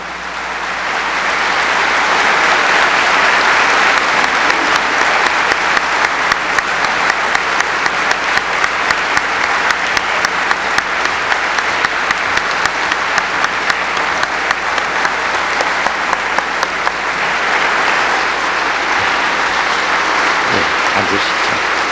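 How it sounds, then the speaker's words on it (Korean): Sustained loud applause from a large lecture audience welcoming the Korean president back to the stage, a dense steady roar of many hands lasting about twenty seconds, with distinct rhythmic clapping pulses through the middle before it fades. "뜨거운 박수로 대통령님을 다시 무대로 모시겠습니다"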